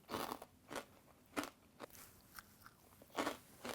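Someone bites and chews a hard, dry freeze-dried Thai dessert snack up close, making sharp crunches at irregular intervals with quiet pauses in between.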